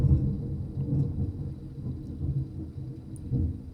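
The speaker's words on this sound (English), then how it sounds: "Man, you heard that thunder." Low, rolling thunder rumbles continuously, loud and heavy through the whole stretch, with no voices over it.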